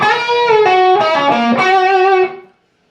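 Electric guitar with distortion plays a quick lick, striking and bending the third string up in fast repeated double-stop phrases, loud and close, then ringing out and cutting off.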